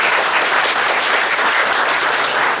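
Audience at a Libertarian Party convention tribute gives loud, sustained applause, a dense unbroken roar of clapping from a large crowd.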